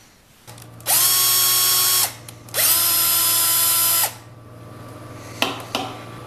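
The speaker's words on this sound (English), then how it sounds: "I like to form these threads a couple of times with the drill" Two sustained whines from a power drill forming screw threads in the end of a connecting rod, each about a second or more, separated by a short pause, followed by a couple of faint clicks.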